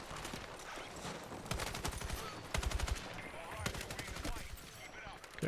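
Gunfire during a Conquest match in Battlefield 6 on the Sobek City map, with rapid automatic bursts and repeated shots rattling close and loud over continuous battle noise, and several heavier volleys throughout.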